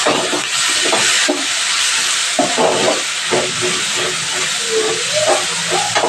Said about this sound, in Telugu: టమాటోస్ బాగా ఫ్రై అవ్వాలండి